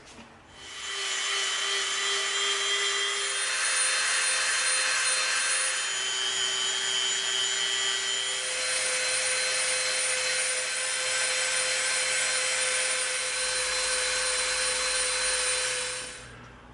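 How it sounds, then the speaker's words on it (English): Dremel rotary tool sanding EVA foam, a loud high-pitched whirring whine that spins up, holds steadily with slight pitch shifts as pressure changes, then winds down at the end, close and alone. "we're going to Dremel it off to make a nice slope"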